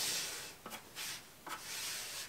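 A pencil scratches small crosses onto a wall while wallpapering behind a radiator, several quick, faint rubbing strokes close by.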